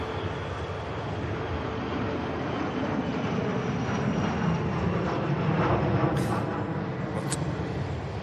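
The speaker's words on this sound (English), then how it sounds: "Embraer is on the takeoff over." An Embraer jet takes off at Manchester Airport with a broad, steady engine roar that holds loud for the whole stretch and swells slightly toward the end.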